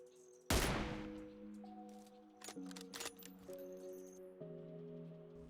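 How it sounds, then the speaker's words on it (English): Sniper rifle fire in the mobile battle game PUBG Mobile, shooting from high ground at a target about 475 meters away: a single loud sharp crack, then quieter game tones and effects with no talk. "Here I am shooting from high ground to low ground around 475 meters."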